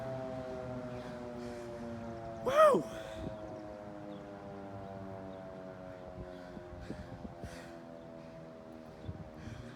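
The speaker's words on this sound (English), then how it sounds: "The fire siren." A fire siren sounds at a distance as a sustained, steady wailing tone. A brief excited shout cuts through it partway in, and quieter voices and rustling follow.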